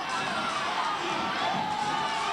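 A basketball crowd at a 2000 NZNBL game between the Nelson Giants and Wellington Saints cheers and roars in a steady, indoor swell, moderately loud and continuous, with voices blended together.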